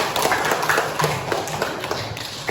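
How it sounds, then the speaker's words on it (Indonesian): Applause in a primary school classroom for a student, scattered clapping from a small group of children, close and fairly steady with uneven, irregular taps. "Tepuk tangan dulu untuk Novita."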